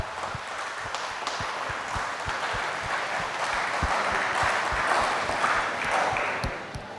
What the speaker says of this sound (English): may I request all of you to give a big round of applause to Dr. Aravindran for the extraordinary job